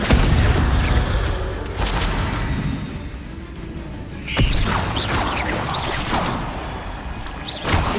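An Incendio fire spell cast in the Hogwarts Legacy video game sets off a loud burst and whoosh of flame amid other combat crashes and impacts, with no talking.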